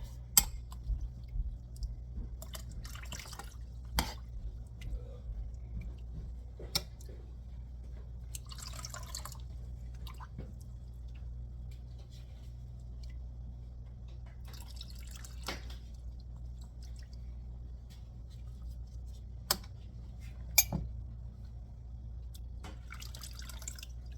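Quiet drips and small splashes of water trickling into a yarn dye pot, with sparse sharp taps and a low steady hum underneath.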